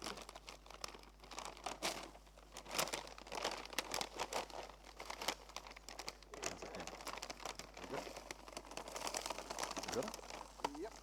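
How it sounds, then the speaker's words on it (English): Plastic bag crinkling and rustling as a simulated comet model is pulled out of it, steady crackly handling noise with people talking throughout. "Now we're going to try and take it out of the plastic bag"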